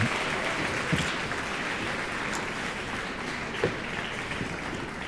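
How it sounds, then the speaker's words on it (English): Conference audience in Cluj claps to welcome speaker Mark Seaman, a steady, moderately distant wash of applause from a large room that holds evenly for several seconds with a few louder claps. "A big round of applause for Mark Seaman."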